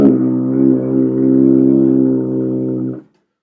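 A tuba played with the first and second valves pressed holds a single steady, warm low D for about three seconds, close and clear, then stops abruptly into silence.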